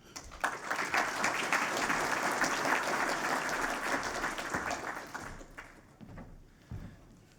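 A conference audience applauds to welcome a keynote speaker to the stage. The steady clapping crowd fades out after about five seconds, leaving a few faint taps and footsteps.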